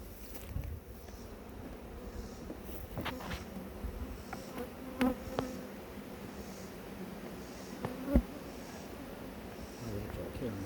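Honeybees buzz around an opened hive during a beekeeping inspection, a faint steady hum with a few nearby flies passing, heard under low outdoor background noise and occasional handling sounds.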